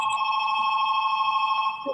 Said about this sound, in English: Yeah, phone.